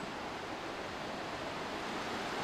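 The River Nethin flowing, a steady broadband rush of moving water, even and unbroken with no distinct splashes, heard alone at moderate loudness.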